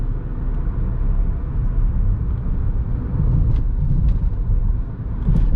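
Low, steady cabin rumble of a 2020 Hyundai i10 driving at night, with road and engine noise blended into a continuous drone and a few faint clicks, heard from inside with no talking.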